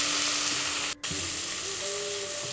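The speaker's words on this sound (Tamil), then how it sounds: "இப்போ கழுவி வச்சிருக்கிற பயத்தம்பருப்பை ஆட் பண்ணிடலாம்" Washed moong dal tipped into a pan of sautéed onions and turmeric, sizzling loudly and steadily at close range, with a brief dip as the lentils go in before the frying hiss resumes; nobody speaks.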